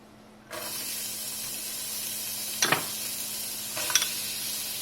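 Onions and carrots dropped into warm oil in a pan set off a sudden, steady sizzle after a brief quiet start, with two sharp scraping stirs later, close and alone.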